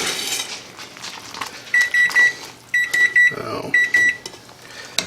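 A kitchen timer beeps in short repeated bursts while tortellini and Italian sausage are being cooked, loud and close in a kitchen, with a brief spoken word at the start.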